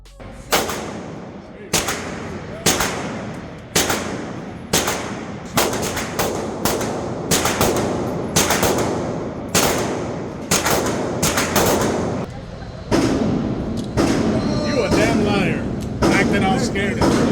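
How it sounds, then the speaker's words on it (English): Firearms go off at an outdoor shooting range in Texas, with loud, sharp reports roughly a second apart that echo into each other and continue steadily while people talk. "gone to the shooting range several times, and they do this for sport"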